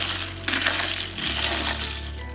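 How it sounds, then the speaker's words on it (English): Ice and lime in a Moscow Mule drink being stirred, a steady clinking and sloshing of cubes against the glass, loud and close, with no talk. "This we can stir a little bit"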